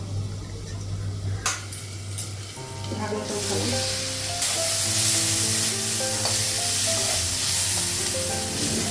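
Pointed gourd (potol) frying in oil in a pan, starting with a few clatters and knocks, then swelling into a loud, bright, continuous sizzle that fills the background under faint humming tones.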